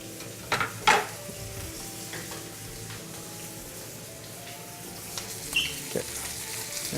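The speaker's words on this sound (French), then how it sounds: "la viande se saisit" Meat sears in a hot pan with a constant close sizzle, punctuated by a few clinks and taps of utensils against the pan, and no talk.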